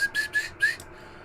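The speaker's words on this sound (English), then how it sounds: "Excuse me, I'm whistling." A person whistles a few short, faint notes in a quiet workshop where Amiga B2000 back panels are being recreated. The notes come in a brief, broken run, fairly close, with no talking.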